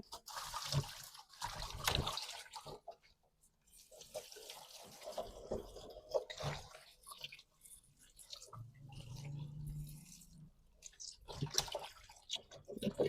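Pandan leaves are washed one at a time under running water, faint splashing and trickling that comes and goes in quiet bursts.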